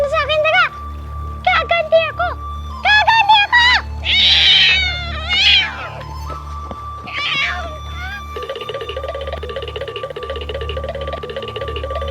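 A cat meows repeatedly in short, plaintive bursts with a few longer wails, fairly close, over steady background music and a low hum.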